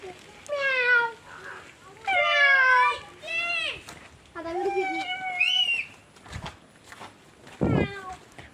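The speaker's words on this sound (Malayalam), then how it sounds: "അവിടെ ഒരു നല്ല അടിപൊളി പൂച്ചണ്ട്, ക്യൂട്ട്." A cute cat meows in several drawn-out calls, heard close and fairly loud, with short pauses between them and a few brief knocks near the end.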